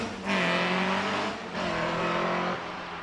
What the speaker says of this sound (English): another of the Westfields, the Westfield SEIW 2 litre machine.